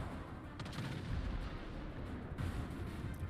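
Warship main battery gunfire in the naval game World of Warships, distant, muffled booming salvos rumbling low under a steady background of engine and sea noise, with a couple of sharper reports.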